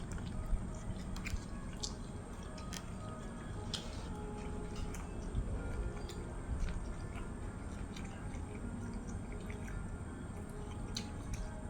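Someone quietly eats a spicy Thai-Lao pounded salad of shrimp and squid, with soft, wet chewing and squishy bites repeating close up in a hushed setting.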